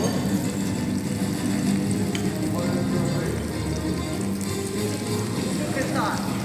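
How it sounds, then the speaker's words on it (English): Bell peppers and onions fry in a pan at a cook-off, giving a steady, dense sizzle that runs throughout, with background voices and kitchen bustle mixed in. "I like how we have some bell peppers frying over here."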